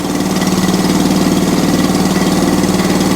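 An ATCO Balmoral cylinder lawn mower engine idles close by with a steady, rhythmic chugging drone that holds even for the whole stretch, with no voices.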